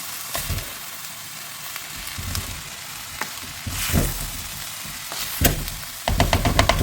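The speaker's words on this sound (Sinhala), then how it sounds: "දැන් මුං අඩ ටික කලවම් කරන්න ඕනේ හොඳට" Mung dal being stirred into fried grated coconut in a hot pan, giving a steady close sizzle with scraping spoon strokes and a few louder clatters, growing busier toward the end.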